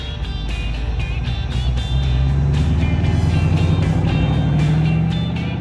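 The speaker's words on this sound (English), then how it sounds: "it was time to back the 55 Chevy outside to let Dad see how it looks" A 1955 Chevy with all-new front and rear suspension backing out of a garage, its engine a steady close rumble that swells slightly partway through and holds without talk.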